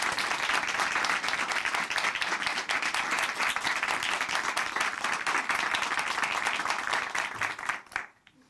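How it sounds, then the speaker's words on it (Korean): A church audience applauds in a dense, steady burst of many hands clapping at once, loud and sustained for about eight seconds before cutting off abruptly. "박수로 모시겠습니다."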